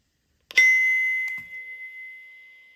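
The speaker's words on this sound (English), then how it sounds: "Now I'm gonna sync the little chime that it comes with by pushing on the sync button" A single bright electronic chime from a Eufy S330 video doorbell rings out while syncing and slowly fades, with a faint click partway through as the tone lingers.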